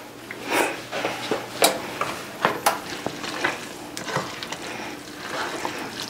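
Noodles are stirred into a keto beef stroganoff with thick gravy, making repeated wet scraping strokes and soft clacks of a utensil against the pan, close and irregular over a low background with no talk.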